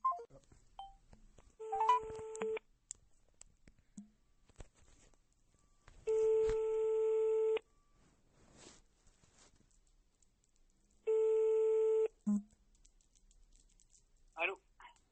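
An outgoing phone call rings out, giving three steady ringback tones, each over a second long and several seconds apart, clear and close, with faint speech and small noises in the gaps.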